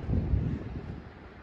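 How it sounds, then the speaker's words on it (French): Wind buffets a boat at anchor off São Nicolau in Cabo Verde, a steady low rumble of gusts against the microphone that swells early and then eases slightly, with no voices. "On a le vent actuellement qui vient dans mon dos"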